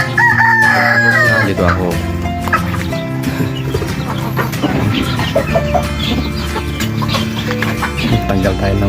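Pet chickens cluck while a rooster crows, loud and close in a busy yard, with someone speaking briefly over the birds.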